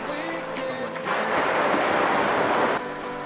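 Surf rolls steadily onto a beach in Maui as a continuous loud wash with wind noise across the microphone and no talking.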